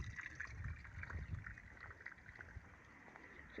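Irrigation water flows faintly in a garden plot with cabbage beds, a soft trickling and gurgling with small splashes, quiet and continuous.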